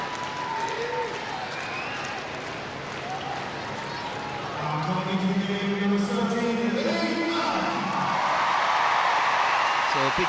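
A crowd cheers and applauds at a Republic of Ireland vs France women's Euro qualifier as a substitute comes on, the roar swelling louder toward the end beneath a commentator's steady voice.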